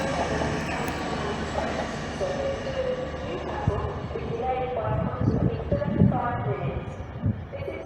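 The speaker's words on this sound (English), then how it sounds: "Transpennine service working 802216." A TransPennine Express class 802 train bound for Scarborough passes through York station with a continuous rumbling roar and clatter of wheels at moderate distance, while a voice is faintly heard.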